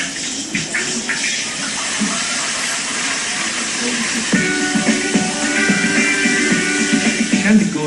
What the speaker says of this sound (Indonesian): Ikan digoreng hingga ikannya matang dan berubah menjadi kuning kecoklatan.